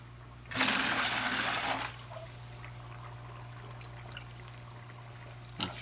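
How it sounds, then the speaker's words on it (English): Fresh water pours into a fish tank in a loud, steady gush for about a second and a half, then cuts off, leaving a low background hum and a faint trickle. "I'll just add fresh water in there."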